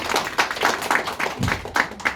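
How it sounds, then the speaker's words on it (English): Audience applause at a Black History Month celebration, a crowd clapping steadily and fairly close, with distinct individual claps rising out of a dense, continuous patter. "So a massive round of applause to Salad."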